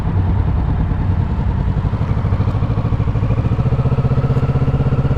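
Kawasaki Ninja 650 motorcycle engine running steadily and loud, with a pulsing mechanical rhythm as the throttle is worked during a test ride, no talking.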